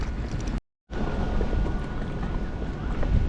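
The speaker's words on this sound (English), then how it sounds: "Oh, the wind is catching me again." Wind buffeting a microphone beside Bristol harbour, a steady low rumbling roar that cuts out briefly near the start and then resumes, loud and close with no speech.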